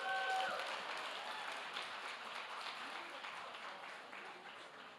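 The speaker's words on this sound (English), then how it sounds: "without further ado, a round of applause for CEO Danielle Minson." A crowd claps steadily in a sustained round of applause, heard at moderate distance and fading slightly toward the end.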